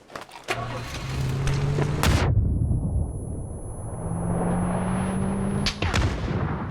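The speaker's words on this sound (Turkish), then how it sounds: "beyninde patlattım lan bombayı" A heavy grenade blast in the video game PUBG bursts out with a deep rumbling roar that lingers, followed by sharp cracks and engine-like droning, loud and close.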